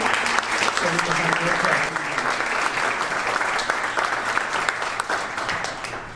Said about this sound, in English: let's have a big round of applause for our first speaker of the evening, Karen Maxwell